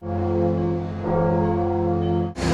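Church bells in the Game of Thrones episode "The Bells" ring out with rich, sustained harmonic tones that hang in the air, ending abruptly with a burst of broadband noise.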